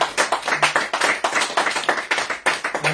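A church congregation claps in a steady, rhythmic beat, many hands striking together in sharp, even pulses, close and fairly loud with no talking.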